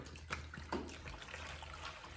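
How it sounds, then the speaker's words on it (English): Cold water poured into a plastic container during a heat transfer experiment, a soft continuous trickle and splash with a couple of brief louder splashes, faint and fairly close. "I'm going to pour the cold water into our plastic container"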